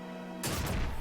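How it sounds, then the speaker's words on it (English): A trap explodes in Final Fantasy XII on PS2, a sudden loud burst that strikes after a quiet stretch and rumbles on briefly with a crackling tail. "Explosion trap."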